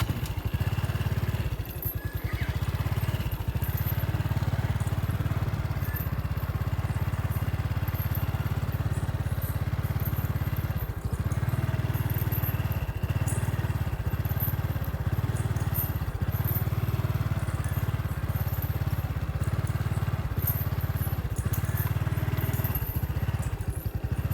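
A motorcycle engine idles and runs with a continuous, low, rumbling drone for the whole stretch, broken by occasional small clatters and thumps.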